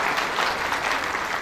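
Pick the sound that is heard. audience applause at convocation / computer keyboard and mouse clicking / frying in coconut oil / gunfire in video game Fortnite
audience applause at convocation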